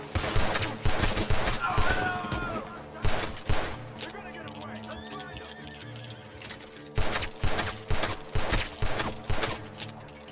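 Gunfire in the Western video game Red Dead Redemption 2: loud rapid bursts of shots crackle in clusters, fall to a quieter lull midway, then resume in sharp repeated volleys.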